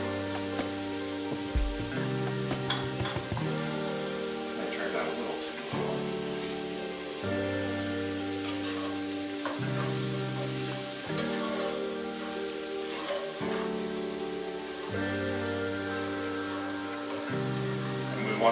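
About half a pound of mushrooms sizzle in a pan with olive oil and butter, a continuous frying crackle that rises and falls in repeated swells over background tones, with no voices.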